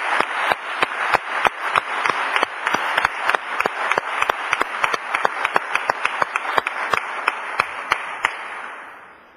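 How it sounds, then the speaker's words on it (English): Applause at a food security conference, sounding like a few hands clapping in a regular, sharp rhythm over a softer background of clapping, sustained for about nine seconds before fading. "please join me in an applause for Dr. Charlson Brathwaite."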